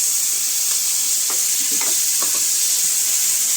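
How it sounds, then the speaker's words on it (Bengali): Onions and tomato fry in a pan under a constant loud hiss, with a few faint stirring scrapes and clinks; no one speaks. "পেঁয়াজটাকে এখন একটু লাল করে একটু ভাজতে হবে, লাল করে ভাজবো, পেঁয়াজও ভাজবো লাল করে।"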